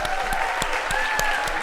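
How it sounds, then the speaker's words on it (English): Audience at a research slam event clapping for a contestant after his juggling, a brief round of applause with sharp individual claps standing out and a faint sustained tone running through it. "let's give Stephen one more round of applause"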